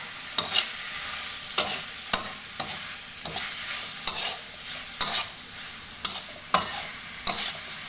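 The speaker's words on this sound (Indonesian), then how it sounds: "Nanti kita aduk, kalau masih kurang kita boleh tambahkan ya." A spoon stirs sugar, salt, MSG and bouillon powder into a frying mixture in a pan for a green pandan grilled rice dish with petai sambal, scraping in repeated strokes roughly every half second over a steady sizzle, with no talking.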